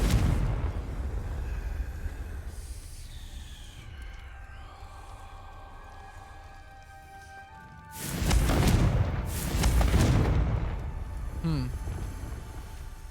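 A Confringo blasting spell goes off in Hogwarts Legacy, a loud booming burst of explosions that rumbles for several seconds after a quieter stretch of magical tones.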